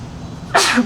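A single sudden sneeze bursts out near the microphone aboard a cruise ship on the Star of the Seas shakedown cruise, loud and breathy, following a quiet stretch of room tone.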